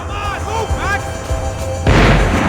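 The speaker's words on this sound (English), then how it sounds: "The bullets came from long range." Long-range gunfire in the action shooter Max Payne 3 cracks out as a sudden heavy report near the end, following a stretch where someone speaks.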